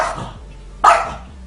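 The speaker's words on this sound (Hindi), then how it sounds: "ये कुत्ता बड़े गुस्से में इस बिल्ली पर भौंक रहा" A dog barking angrily at a cat in the dark lets out a single sharp, loud bark, close by, with a short quieter yelp before it and no talking.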